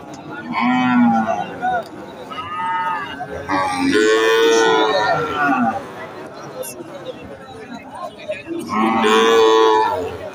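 A Holstein Friesian bull moos loudly and close by several times, long drawn-out bellows, with people chattering in the background at a cattle market.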